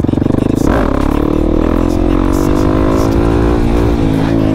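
A motorcycle engine revs hard and steadily, loud and close, after a brief rougher start, with a sustained high-pitched drone and harmonic whine throughout.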